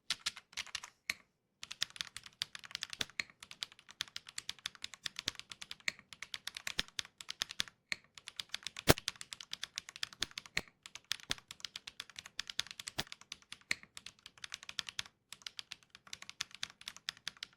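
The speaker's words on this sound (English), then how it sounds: "This 1mm thick PCB has a faceless typing sound without slots." Steady, fast typing on a mechanical keyboard with a 1mm thick unslotted PCB, with dense clacking keystrokes and a few brief pauses, close up and alone.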